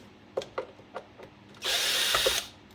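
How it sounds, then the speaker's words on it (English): Screws being removed from a Technics SL-1210MK2 turntable: a few sharp clicks and taps, then a steady, close whirring burst from a power driver lasting about a second. "bear with me while I get the screws removed"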